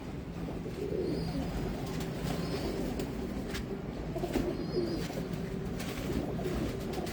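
Red-eyed, long-bodied pigeons coo softly in a home loft, a low, repeated murmur against a steady background hum, with an occasional faint chirp.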